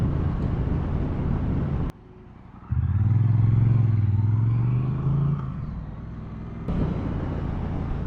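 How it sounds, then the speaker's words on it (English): Outdoor rumble cuts out, then the low engine drone of a 2021 Triumph Bonneville Street Twin motorcycle rises and holds for a couple of seconds before fading as the background noise returns. "there's a lovely sound coming from this engine"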